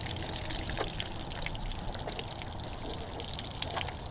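Water trickling and dribbling steadily from a bullet-punctured plastic water jug at an outdoor shooting test, a soft continuous outdoor pour with a few faint splashes and no talking.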